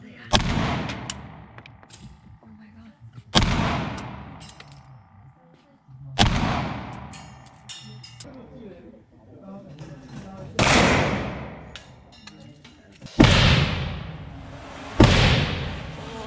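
Real firearm shots at an indoor shooting range in Prague: six loud, single booming reports spaced a few seconds apart, each with a sharp attack and ringing decay, heard up close with faint talk and handling noises in between.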